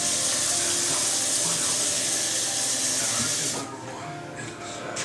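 Water is poured from a tap over a salmon fillet to cover it, a loud steady hissing rush that runs for about three and a half seconds, then stops, leaving quieter kitchen noise.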